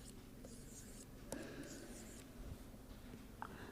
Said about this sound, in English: or you can write like this.